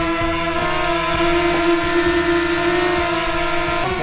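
A DJI Mavic Mini drone taking off, its propellers producing a loud, sustained high-pitched whine with steady tonal hum throughout and no talking.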